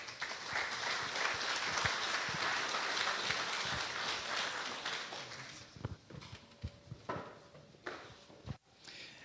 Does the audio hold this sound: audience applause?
yes